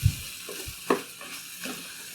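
Spinach wilting in a hot pan as it is stirred, a faint sizzle with a few soft scrapes and knocks of the utensil, close and quiet, no speech.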